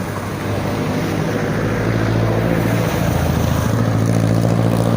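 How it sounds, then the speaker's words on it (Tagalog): A motorcycle engine runs steadily and loudly up close, a continuous throbbing drone with a slight rise in intensity toward the end, no voices over it. "Kunin muna natin yung motor natin."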